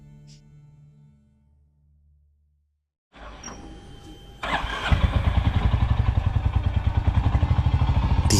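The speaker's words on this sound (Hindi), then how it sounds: "धीरे धीरे इंजन की आवाज उस खामोशी को तोड़ती है" A motorcycle engine cranks and catches near Sissu before a ride to Rohtang Pass, first a short starter burst after near silence, then a loud, close, steady pulsing idle that settles into a throbbing rhythm.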